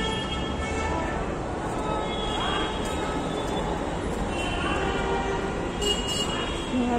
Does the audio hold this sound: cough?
no